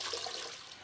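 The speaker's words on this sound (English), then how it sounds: "Oh, nice warm water." Warm water runs steadily from a tap in a bathroom before a shave, a close, even hiss of flowing water that lasts the whole short moment with no voices.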